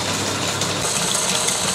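An SC22 power sprayer driven by a 1/4 to 1 hp electric motor runs steadily with a constant dense mechanical drone and hiss, close and unbroken, with no talk over it.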